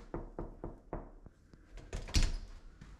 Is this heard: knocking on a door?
yes